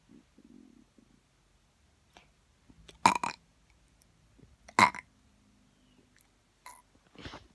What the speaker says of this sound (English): I was trying to make myself burp.